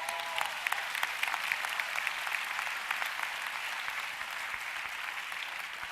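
A church congregation claps during a service, a fairly distant and soft but steady patter of many hands that continues evenly for about six seconds.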